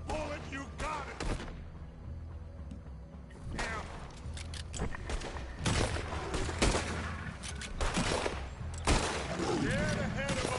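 Gunfire from a video game crackles in scattered bursts and single shots over about ten seconds, mixed with booms and mechanical clatter while people talk over the action.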